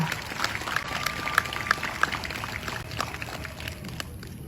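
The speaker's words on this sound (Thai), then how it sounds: "ปรบมือให้ตัวเองนะครับ" An audience at a Thai public discussion on the monarchy applauds. The clapping is a dense, fairly distant patter with some sharper claps, and it holds steady before easing off.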